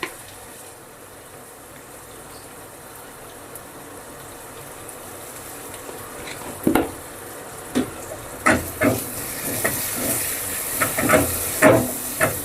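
A pan of curry with turmeric being stirred. A low hiss builds into rising sizzle and several sharp scraping, clattering stirs toward the end, close and with no talking.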